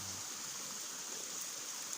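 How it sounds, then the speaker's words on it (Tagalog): A clean countryside river flowing through farmland, a steady, even rush of water heard alone throughout with no talk. "may ilog na malinis ng tubig"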